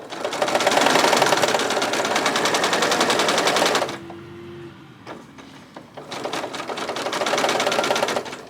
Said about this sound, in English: I'm going to only sew in a couple of inches